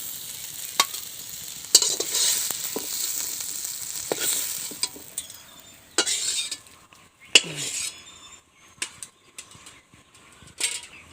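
Potatoes fry in a wok with a soft sizzle while a utensil scrapes and clinks against the metal in irregular stirring strokes, close and moderately loud.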